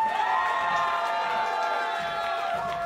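At the Iron Mic 2017 Chinese freestyle rap battle, an audience cheers for a rapper. The sound is a sustained, dense wall of voices and applause that holds at a steady level with no talk.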